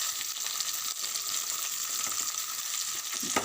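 Carrot pieces frying in a pan for semiya upma, giving a loud, dense and continuous sizzle that holds steady from start to finish, with no talking.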